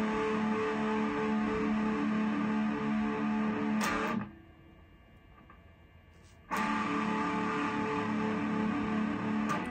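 An electric guitar plays the ending of a song as an open chord, ringing with a thick, effected tone, dropping out briefly before the chord returns and sustains to the end, with no voices.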